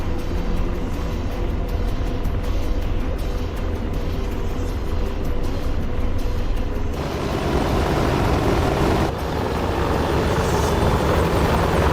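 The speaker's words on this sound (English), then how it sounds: "I figured I'd need the Apache for the extra situational awareness" An Apache helicopter in a combat video game thrums steadily and loudly throughout, its rotor and engine tone shifting partway through, with no talking.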